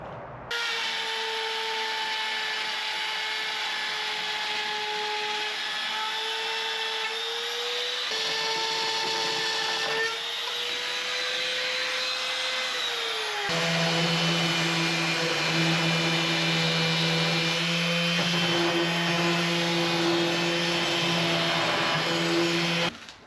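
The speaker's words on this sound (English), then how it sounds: "the next test is if I can router the thing" A router cutting into a homemade plexiglass loader bonnet gives a continuous high-pitched whine that shifts in pitch twice as the cut loads and eases, steady and close with no talking.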